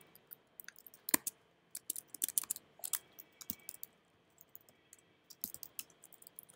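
Keys clatter on a computer keyboard in quick irregular bursts, with short pauses between runs of clicks, close and fairly quiet with no talk.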